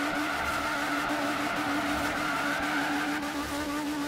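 A Ford Escort RS1800 in Forza Horizon 3 revs hard while reversing at speed, a steady, loud, buzzing engine note holding a high pitch throughout with a faint tire hiss beneath, no voices.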